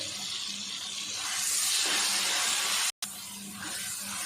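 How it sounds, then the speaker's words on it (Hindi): Water poured into a pan of frying masala while cooking aloo phaliyan, a soft steady hissing wash that swells midway, cuts out briefly, then resumes quietly. "थोड़ा सा पानी डाल के मसाले को भुनाई कर लेंगे अच्छे से"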